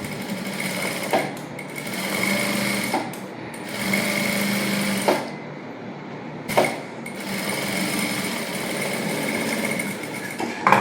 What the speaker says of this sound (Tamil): இப்போ அமுக்கடி போட போகிறேன் லைனிங் மேலே